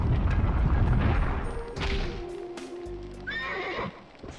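Horse whinnies in the PS2 game Dual Hearts, a rising neigh near the end over galloping hoofbeats and loud rumbling game audio, with no talk.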